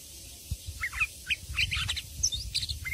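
A spotted green leafbird (cucak ijo trotol) sings a rapid string of bright chirps and trills, close and clear, over a low background rumble.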